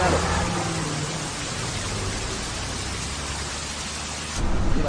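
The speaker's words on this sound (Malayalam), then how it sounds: "ഭയങ്കര മഴ" Heavy rain pours down in Wayanad, a dense, steady roar of water that stays loud and unbroken throughout, with a brief surge in intensity near the end.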